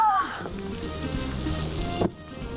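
Green chilies sizzle and fry in hot oil for pickle, a steady close crackle and hiss that cuts off abruptly near the end, with a faint tonal clatter at the start.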